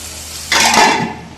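Cumin seeds and dried red chilies drop into hot oil for dal fry, setting off a sudden loud sizzling burst that swells and then slowly fades.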